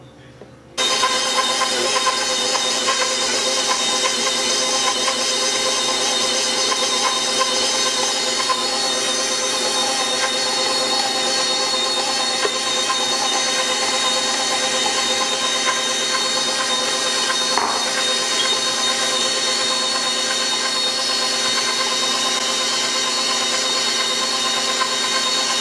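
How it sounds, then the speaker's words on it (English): An electric mixer beats butter, sugar and eggs into cookie dough for Kool-Aid cookies, a loud, constant motor whine that holds steady for over twenty seconds after switching on. "Then I'll add in 2 eggs into this mixture and then mix that well."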